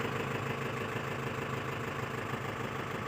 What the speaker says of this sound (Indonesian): Nah, suara mesinnya seperti ini. Dia agak sedikit kasar ya